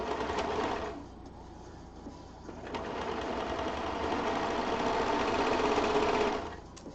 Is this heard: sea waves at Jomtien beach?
no